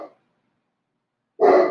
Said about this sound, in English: He's barking at a tree. He's barking at the wind blowing.